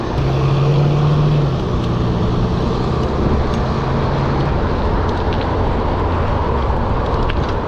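A bus drives through city street traffic close by, its engine a loud, steady rumble with a low tonal hum that fades partway through amid surrounding road noise.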